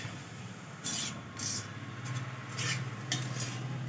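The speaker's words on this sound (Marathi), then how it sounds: "सर्व सारण एकजीव करून छान असं परतवून घेणार आहोत।" Vegetable momo filling is stirred and sautéed in a pan, with soft scraping strokes of a utensil against the pan repeating over a low, faint sizzle.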